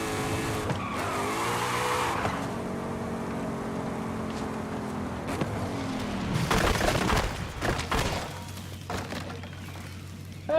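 A Forza Horizon 5 car with a muscle car engine roars and its tires squeal through a drift, revs rising and falling before a sharper burst of skidding and a low idle near the end.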